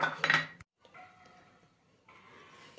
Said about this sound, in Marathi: आता आपल्याला या भांड्यामध्ये आपण काढून घेऊयात ही भात